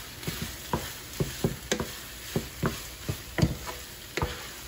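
Rava upma semolina stirred with oil in a pan, a series of about a dozen distinct scraping strokes in a loose rhythm over a faint sizzle, close up and quiet.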